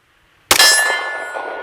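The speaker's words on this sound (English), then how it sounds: "So I drop the mag" An empty pistol magazine drops and strikes a hard surface with a single sharp metallic clang whose ringing decays slowly, following near-silence.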